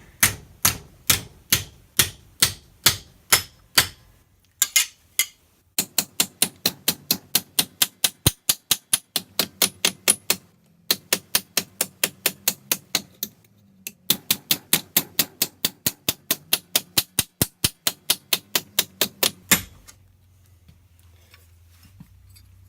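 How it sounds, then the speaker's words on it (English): A body hammer taps sheet metal over an anvil in long, rapid, evenly spaced runs of sharp metallic strikes, close up. Brief pauses separate the runs before the hammering trails off near the end. "Give it some taps"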